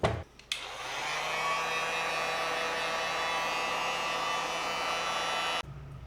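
A hair dryer heats a glued part on a BMW S1000RR motorcycle, switching on after a brief click and blowing a steady, close whooshing hum for several seconds before cutting off.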